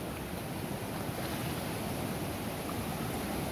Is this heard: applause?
no